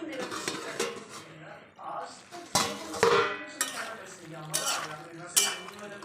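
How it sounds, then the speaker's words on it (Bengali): A lid comes off a pot of vegetables cooking, with clinks and clatters of metal cookware and utensils in a close kitchen, sharp knocks scattered across a few seconds. "এবার ঢাকনাটা খুলে নিচ্ছি।"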